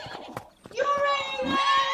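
A horse gives a loud, close whinny that rises and holds for over a second, with hoof clip-clops and a person shouting just before it.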